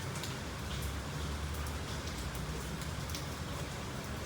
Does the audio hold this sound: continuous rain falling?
yes